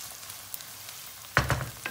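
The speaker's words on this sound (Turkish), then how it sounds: "Salçamızın kavrulmasını bekleyelim." Tomato paste frying in a pan for an onion stew, with a soft background hiss, then a louder burst of sizzling and stirring partway through, close and fairly loud.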